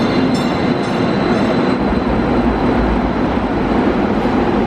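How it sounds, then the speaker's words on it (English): St Louis MetroLink light rail train riding from a subway station, a steady loud interior rumble of wheels on track with low droning hum throughout, no voices. "We're boarding a light rail train that's going to take us to farm fields from a subway station"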